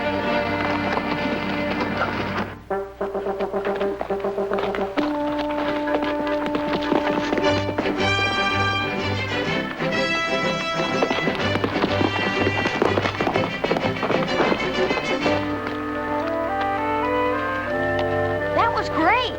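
A horse gallops in a race, its rhythmic hoofbeats thudding beneath loud, busy orchestral music that dominates throughout.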